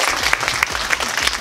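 A short burst of applause from the audience at a French corporate event honouring the team, with many hands clapping in a loose, pulsing rhythm close by.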